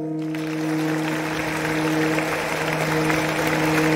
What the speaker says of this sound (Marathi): त्यांच्याकरता एकदा जोरदार टाळ्या वाजवा